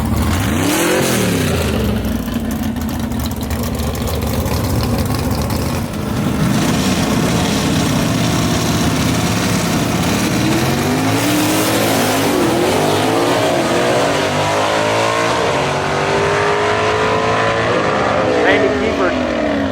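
A 1956 Pontiac Chieftain gasser drag racing at a dragway, its loud engine roaring and revving hard, rising and falling in pitch as it accelerates down the strip, with an announcer talking over it.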